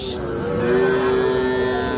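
A crossbred heifer calf of about three and a half months gives one sustained, close moo at a cattle market, steady and tonal throughout.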